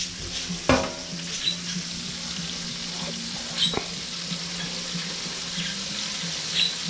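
Breaded chicken cutlets fry steadily in a pan, a continuous close sizzle with occasional sharper crackles and pops.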